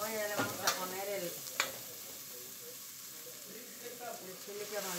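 Tomato and onion sauce fries in a cazuela with a gentle, continuous sizzle and a couple of stirring knocks early on, while a voice speaks briefly at the start.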